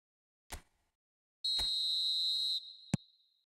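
A referee's whistle in the eFootball video game blows for a foul. One short pip is followed by a long, loud, steady blast of about a second and a sharp final chirp, with no talk.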